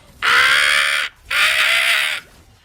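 Two loud, harsh crow-like caws in the mobile game Mobile Legends, each lasting about a second and separated by a brief pause, heard alone and close.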